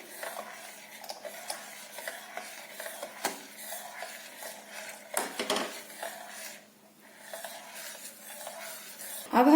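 A spoon scrapes and clinks against a pan while bread pudding custard is stirred over a low flame, with irregular soft strokes and sharper knocks, quiet and close with no talking.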